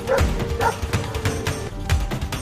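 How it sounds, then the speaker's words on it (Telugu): Cartoon village dogs barking and yipping as they chase a fox, several quick yaps in bursts with whimpering over music, fairly close and loud. "ఆ గ్రామంలోని కుక్కలు నక్కని చూసి వెంటపడ్డాయి."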